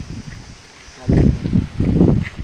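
Strong gusts of wind rush through fruit trees, surging loudly in two broad bursts after a quieter start and buffeting the microphone.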